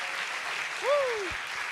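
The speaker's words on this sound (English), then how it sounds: "Put your paws together to give them a round of applause." An audience claps for an award winner at a hackathon demo day ceremony: a short burst of steady applause, with a brief rising and falling tonal squeal in the middle.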